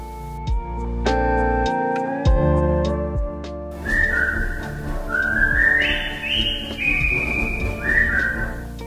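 A clear, close whistle carries the jaunty Colonel Bogey March melody in distinct stepped notes, sounding alone without any talking.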